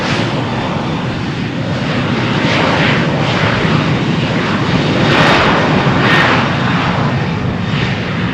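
A Ryanair airliner takes off from Malaga Airport's runway 13 on a stormy morning, its jet engines a loud, continuous broadband roar that swells slightly midway as the aircraft accelerates past, with no talking.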